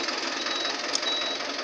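A Hino Dutro / Toyota Dyna truck engine with a DPF fault turns over and runs with a steady, dense, rattling mechanical drone, close and constant throughout.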